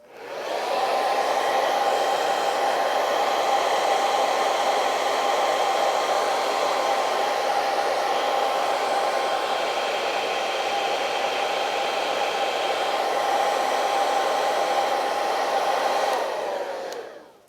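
A hair dryer drying watercolor paint on paper, running continuously at a loud, steady whoosh with a constant motor whine, close by, starting abruptly and shutting off near the end, no talking.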